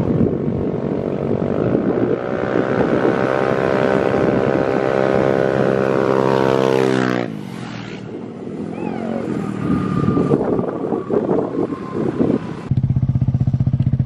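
Small mini bikes such as a Honda Grom, Yamaha Zuma and SMAX rev and accelerate hard in a street drag race, loud and close, with rising engine pitch through shifts, then a lull and another launch.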